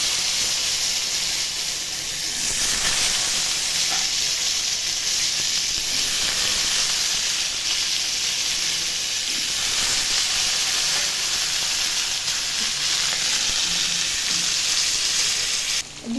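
Potatoes frying in a pan with paneer, chilli and cumin, a continuous loud sizzle and hiss with occasional stirring scrapes, close and steady throughout.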